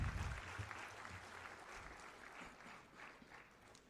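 An audience at a public campaign launch event applauds a chief guest. The clapping is soft and distant, a steady patter that swells slightly after a brief low thump at the start.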